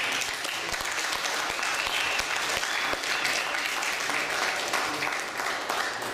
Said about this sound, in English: let's give a round of applause for Leo Zagami